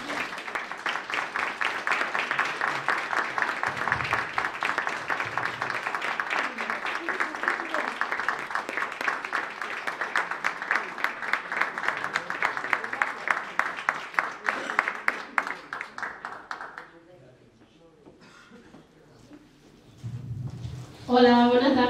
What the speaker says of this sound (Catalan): Jo crec que ha de començar amb un aplaudiment.